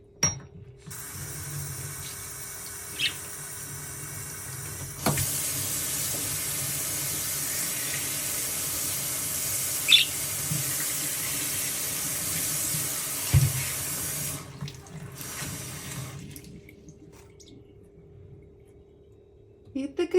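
Water is poured out to be changed, a steady rushing splash that runs for about thirteen seconds with a few small clinks, then stops and leaves quiet.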